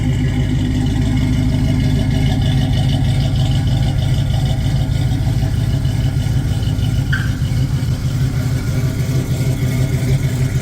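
A 1966 Pontiac Catalina wagon engine idles steadily up close, a deep continuous rumble with a faint brief chirp partway through and no talking.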